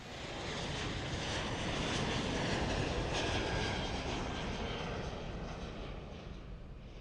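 An airplane engine drones loud and continuous, swelling in the middle and easing slightly toward the end, with no voices.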